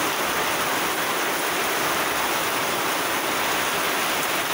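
Heavy typhoon rain pours steadily outdoors, a dense, unbroken roar of water lasting throughout with no voices.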